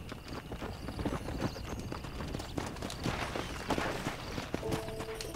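Rapid, rhythmic hoofbeats of a horse galloping in Red Dead Redemption, steady and fairly close, with a faint whinny and some background game sounds.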